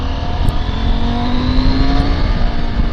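A car engine pulls hard in third gear on an open road, a loud, steady roar that holds close and continuous with a slowly rising tone and no voices over it.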